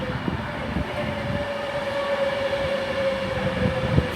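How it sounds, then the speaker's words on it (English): A 9-carriage Pendolino train pulling into a station platform, steady loud rolling rumble with a sustained tonal whine and occasional clanks, no voices. "coming in here is the 10:13 slightly delayed service to Glasgow Central, which is a 9-carriage Pendolino"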